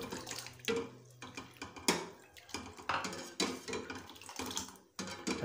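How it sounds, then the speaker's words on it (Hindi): A metal spoon stirs cornflour into plum and falsa juice in a pot, giving repeated scraping clinks and sloshing liquid strokes in an uneven rhythm, close and moderately loud throughout. "साथ साथ चम्मच को हिलाते रहेंगे"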